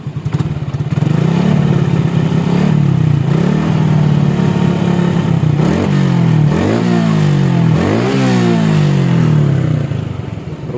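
A Supra X 125 motorcycle fitted with a stainless exhaust header idles loudly up close, then is revved in three short blips that rise and fall in pitch over a steady lumpy idle.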